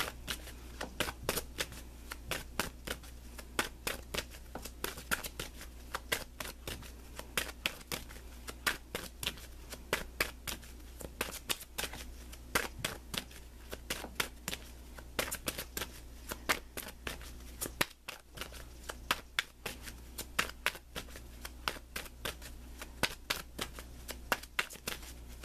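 Tarot cards being shuffled continuously, a dense, even riffle of crisp card flicks close up, with a low steady hum underneath.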